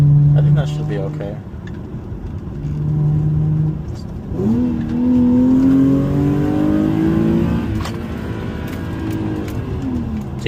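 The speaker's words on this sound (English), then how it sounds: "I'm going to go ahead and push it right now so you guys can kind of see that it doesn't pop or anything like that" An Infiniti VHR engine pulls hard in third gear on an UPREV race map, rising steadily in pitch with a loud, near drone, and no pops are audible.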